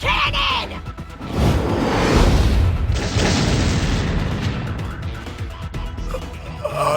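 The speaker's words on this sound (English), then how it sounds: "Secret technique of the Makishima style, Nadi Nandi Kesvara's sparkling wave cannon!" Special attack from Akiba's Beat, the sparkling wave cannon, bursting into a loud, sustained explosive roar that swells, holds for several seconds and then slowly fades, with a voice briefly audible around it.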